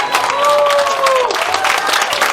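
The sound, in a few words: audience applauding and cheering the winner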